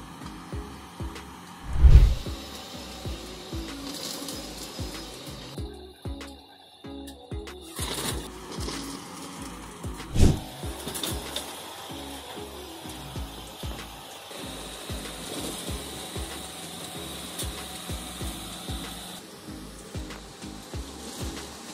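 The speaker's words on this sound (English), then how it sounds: "Apple harvesting machine. This harvester is based on a principle of single system." An apple harvester, a single side-mounted machine combining tree shaking and fruit collection, runs steadily beside the tree with a continuous mechanical whir and rattle, loudest jolts near the start and middle, no talk.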